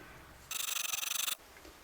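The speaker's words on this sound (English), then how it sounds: "So I'm putting on my sanding beam here again." A short burst of rapid, even back-and-forth rasping as a sanding beam scrapes metal guitar frets, lasting under a second before stopping.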